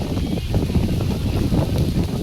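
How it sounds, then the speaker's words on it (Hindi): Strong summer wind buffets the microphone at a hilltop pilgrimage site, a steady, close rumbling gust with fluttering bursts throughout. "तेज़ हवा चल रही है"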